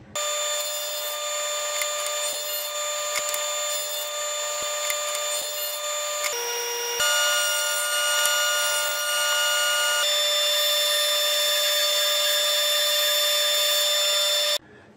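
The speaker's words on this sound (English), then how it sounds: "I'm gonna use the dado blade to reproduce the tongue" Steady, continuous whine of a saw spinning a dado blade through wood to cut a tongue, loud and sustained with a brief shift in pitch midway, no voices.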